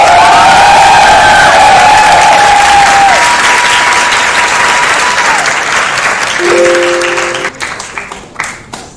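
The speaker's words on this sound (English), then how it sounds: "thank you for the applause" An assembly audience at a council meeting bursts into loud, sustained applause mixed with cheers and whoops, which thins out into scattered claps near the end.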